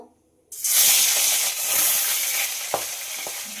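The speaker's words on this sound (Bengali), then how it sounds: "এবার নুন হলুদ মাখিয়ে রাখা মাছগুলো দিয়ে দেব ভাজার জন্য।" Fish rubbed with salt and turmeric hits hot mustard oil after a brief silence, bursting into a loud, close, hissing sizzle that holds steady with a couple of small pops.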